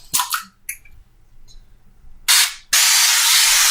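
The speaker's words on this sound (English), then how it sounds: "Reapply the spray." Cooking spray hissing from a can in two short bursts, the second long and loud, after some soft clattering.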